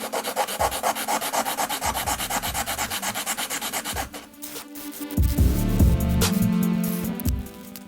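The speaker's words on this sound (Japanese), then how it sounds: "これはね、もうヤスリで整えていきたいと思います" A hand file shaping a small plastic Mini 4WD part, rhythmic back-and-forth rasping strokes up close, steady at first, then heavier, scraping passes after a brief pause.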